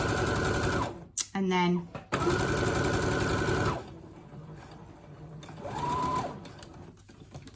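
A sewing machine stitches around the edge of a napkin in bursts, its steady whirring run pausing for a turn with the needle down, then resuming, with someone talking over it.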